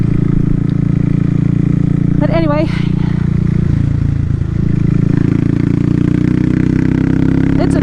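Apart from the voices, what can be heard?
loud motorcycle engine and exhaust pipe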